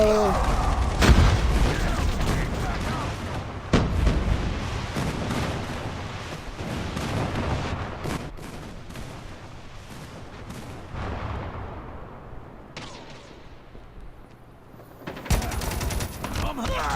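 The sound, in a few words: enemy airstrike explosions in Call of Duty Mobile video game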